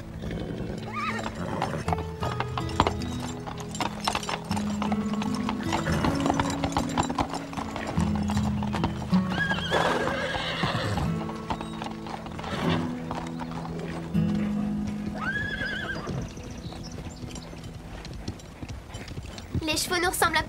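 Horses' hooves clip-clop steadily on a hard surface while horses whinny clearly a few times. People talk quietly throughout, alongside background music.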